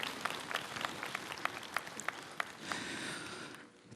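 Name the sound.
applause at Buddhist monks' rally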